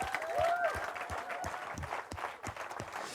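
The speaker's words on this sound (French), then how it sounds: "On peut encore les applaudir, s'il vous plaît." Audience applause for the Gospel Youth choir at a Christmas show, a dense patter of many hands with a brief tonal note near the start, steady and fairly close.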